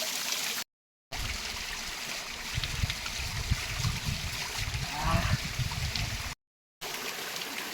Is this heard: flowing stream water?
yes